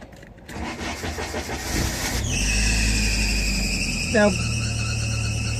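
A 1990 Jeep Wrangler with a manual clutch cranks briefly and catches, then settles into a loud, steady idle with a whining, rusty alternator pulling on top. A short voice comes in at the start.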